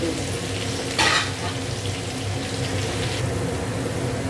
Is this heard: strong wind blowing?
no